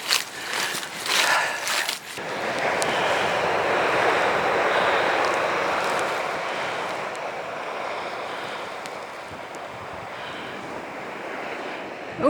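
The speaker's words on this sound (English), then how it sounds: "Bit windy, so I don't know if you can hear me" Strong wind gusts across a coastal clifftop walk near Sandstone Head, looking toward the Orkneys, buffeting the microphone in loud rushing swells over a steady roar resembling surf, continuous and close throughout with no talking.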